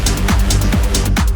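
Horn sample pitched in Ableton using the Beats warp algorithm, a loud continuous buzzy tone with a gritty, crunchy texture and periodic brighter pulses.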